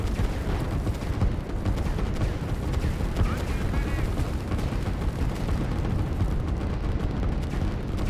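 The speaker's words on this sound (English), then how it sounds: "That artillery blob is a pretty effective one" Artillery fire rumbles through a real-time strategy battle, a dense, steady bed of distant booms and crackling shots running throughout at constant loudness, with faint speech under it.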